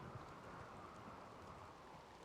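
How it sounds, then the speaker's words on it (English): Steady rain falls in the survival colony game Rimworld, an even, dense hiss of rainfall with no breaks, moderately quiet and unaccompanied by any voice. "Oh, yep, and there's the rain."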